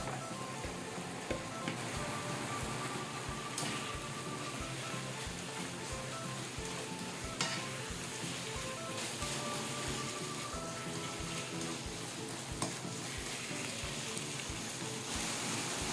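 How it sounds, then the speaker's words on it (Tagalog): Fried eggplant sizzles in a pan, a steady, dense crackling hiss that continues evenly throughout with no talk over it. "Lagay natin yung fried natin na talong."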